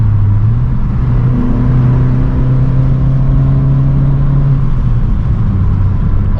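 A Vauxhall Corsa's engine purrs steadily while driving, a loud, close, continuous low drone with a slight shift in pitch partway through and no talking.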